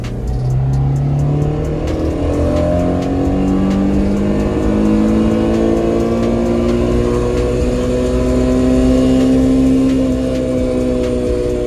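A Tofaş car accelerates in second gear, its engine note climbing steadily in pitch as revs build, loud and close from inside the car, continuous with no talk.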